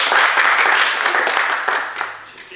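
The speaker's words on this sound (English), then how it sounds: "Big round of applause for Baby" An audience claps for a young child, a dense burst of applause that fades out over a couple of seconds.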